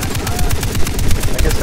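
Rapid shotgun and gunfire bursts in the co-op shooter game Far Cry 3, loud and continuous over a dense battle din of repeated blasts.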